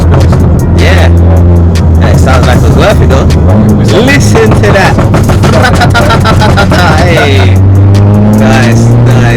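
Remapped stage 1 VW Golf GTI engine revving loudly and close up, rising and falling in pitch with crackling pops on the overrun, while people talk and shout over it.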